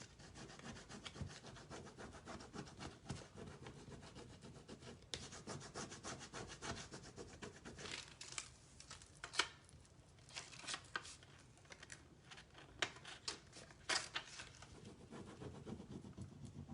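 A stencil decor transfer being burnished onto a surface, heard as steady close scratchy rubbing strokes with faint crackles, continuing throughout without speech.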